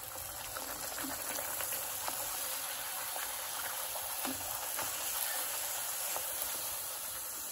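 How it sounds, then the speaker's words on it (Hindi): Puris fry in a pan of hot oil with a steady, dense bubbling hiss that runs evenly throughout, close and unbroken, with no voices. "तेल गरम हो गया, अब हम इसमें पूड़ी डालेंगे"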